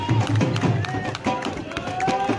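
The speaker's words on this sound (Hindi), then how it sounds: "लोगों ने बजाई है तालियां भाई" An audience claps at a dhol tasha performance, a dense, close patter of many hands mixed with crowd murmur, while someone talks over it.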